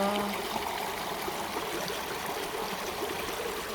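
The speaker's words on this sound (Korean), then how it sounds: "물소리 들어보세요" A stream flows with a steady, gentle rush and trickle of water, soft and continuous, with no talking.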